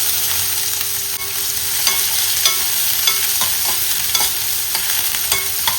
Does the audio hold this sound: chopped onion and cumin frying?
yes